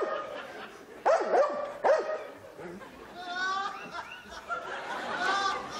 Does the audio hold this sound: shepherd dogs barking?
yes